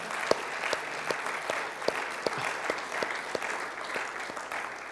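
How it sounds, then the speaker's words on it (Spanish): Church congregation clapping for the Lord during a sermon, a light, sparse applause with distinct individual claps ringing out fairly evenly over a faint background. "Dale un aplauso al Señor."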